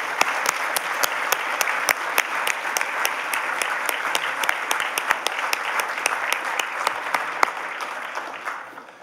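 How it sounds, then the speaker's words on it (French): Audience at a university faculty awards ceremony claps warmly and steadily, a sustained bright patter of many hands with sharper individual claps on top, tapering off at the end. "Je vous invite à applaudir chaleureusement nos personnalités inspirantes de la communauté facultaire."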